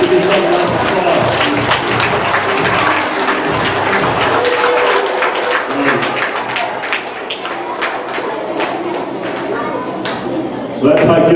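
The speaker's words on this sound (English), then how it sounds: "Give yourself a round of applause." An elementary school assembly crowd claps and cheers in a loud burst of applause, sustained over several seconds before slowly thinning out, with voices mixed in.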